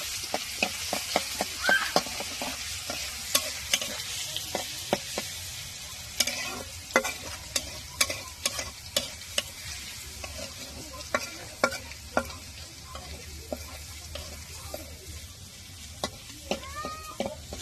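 Garlic fries in oil while being stirred, a continuous close sizzle broken by frequent sharp clicks and scrapes of the utensil against the pan.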